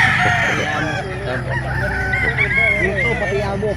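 A ten-month-old gold gamefowl rooster crows at a poultry sale in Calauan, a loud, close, wavering call with clucking and faint background voices around it.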